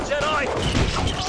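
Rapid bursts of blaster fire from clone troopers in the LEGO Star Wars: The Skywalker Saga video game, dense and continuous over a busy battle mix, with voices speaking over it.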